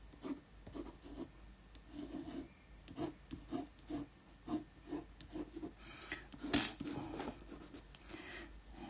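Pen scratching and rasping across paper during sketching, tearing through the sheet, in a steady run of close, rhythmic strokes with a sharper burst near the end.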